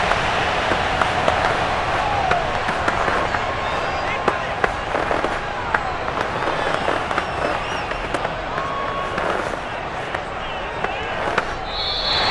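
Victory cannons fire in a stadium in Madden NFL 22 after a Tampa Bay win, giving sharp, scattered booms over a steady crowd roar while a commentator talks.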